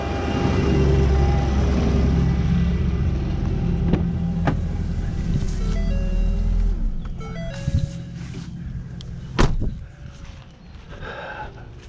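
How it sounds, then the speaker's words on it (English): A running 1.5L engine in a 2014 Ford Fusion with a faulty, non-charging alternator, a loud engine drone with a thin tonal whine on top, then a few sharp clicks and knocks as the motor quiets. "You can hear that alternator singing."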